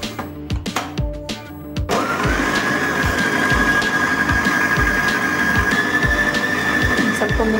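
Electric blender whirring loudly and steadily as it mixes a beef nugget mixture seasoned with black pepper and salt, after a few seconds of choppy start-up pulses.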